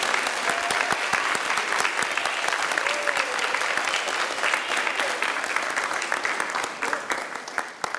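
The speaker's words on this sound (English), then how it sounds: "let's just give these graduates a big round of applause for doing this" A crowd applauds steadily for graduates at a high school graduation, dense clapping sustained throughout and fading slightly near the end.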